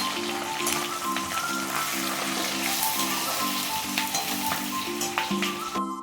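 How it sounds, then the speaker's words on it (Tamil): Onions and curry leaves sautéing in hot oil for a spicy chicken gravy crackle and sizzle steadily, with scattered pops and a repeating tonal melody playing underneath. "முதல்ல வெங்காயம் சேர்த்துக்கலாம். கருவேப்பிலையும் ஆட் பண்ணிவிட்டு இப்போ நல்லா வந்துட்டு வதக்கி விட்டுக்கலாம்."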